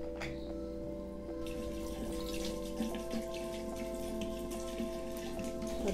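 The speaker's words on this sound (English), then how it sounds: "and I'm gonna add some carbonate water" Carbonated soda water is poured into honey syrup with apple cider vinegar, a steady fizzing, splashing pour heard close up over a constant low background hum, with no talking.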